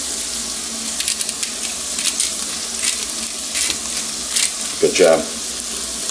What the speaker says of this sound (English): You stir it around.